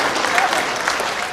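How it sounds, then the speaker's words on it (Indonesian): Indoor audience at a Ministry of Social Affairs event applauding loudly and steadily, a dense wash of many hands clapping throughout with some crowd noise mixed in. "Dan boleh tepuk tangan bebas Bapak Ibu."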